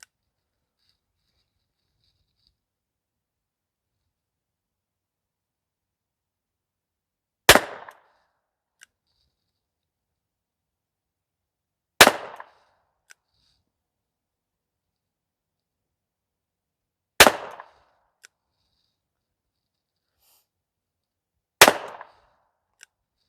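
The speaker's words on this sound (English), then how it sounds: "Here we go, single action, 6 shots down range." Diamondback Sidekick revolver fired single-action, with four sharp, isolated shots spaced several seconds apart against near silence, each with a brief decaying tail and faint clicks of the action between them.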